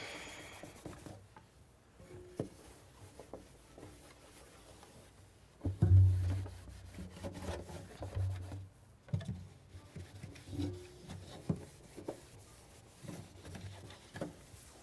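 Soft cloth rubbing instrument polish over a cello top, faint close-up swishing and scrubbing strokes with occasional light knocks, quiet and irregular.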